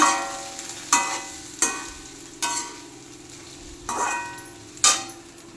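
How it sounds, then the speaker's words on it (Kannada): Onions frying in a pan, stirred with a spoon that strikes the pan in about six sharp scrapes and clanks over a steady low sizzle, close and alone without talk. "ಮಿಕ್ಸ್ ಆಗಬೇಕಲ್ಲ ಈರುಳ್ಳಿ ಎಲ್ಲ ತಿರುಗಿಸ್ಬೇಕು ಒಂದು ರೌಂಡ್ ತಿರುಗಿಸ್ಬೇಕಾಗುತ್ತೆ"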